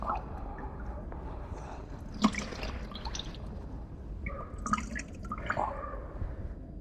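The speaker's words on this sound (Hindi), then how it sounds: "अब इसको हम फिर निचोड़ेंगे, चाहे इसी बाल्टी में निचोड़े," Wet cloth wrung out by hand over a bucket while being washed clean, with water dripping and splashing into the bucket in irregular bursts, close and fairly quiet.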